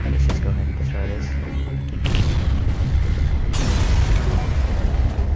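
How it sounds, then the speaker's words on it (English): A pirate ship exploding in FTL: Advanced Edition, heard as game sound with booming bursts, a sharp blast near the middle and another heavy burst later, over a continuous music and effects bed. "The pirate explodes"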